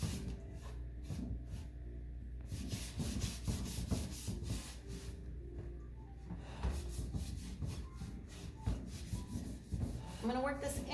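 A wax brush works clear wax into chalk-painted furniture, making quick repeated bristle rubbing and scrubbing strokes at close range, fairly soft, with a few brief pauses between bursts.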